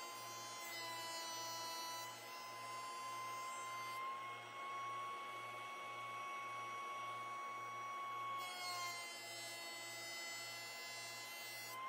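A machine runs steadily while milling walnut lumber for a picture frame, a continuous whine with a low pulsing hum holding at even loudness for the whole stretch, with no talk.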